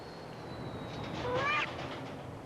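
Several short cat meows rise and fall in a quick cluster, moderately close, over a steady room hiss, heard during a Whiskas cat food commercial.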